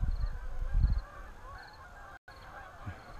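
Geese honk repeatedly overhead, a busy flock calling in bursts, loudest at first and then thinning out, with faint wind noise beneath.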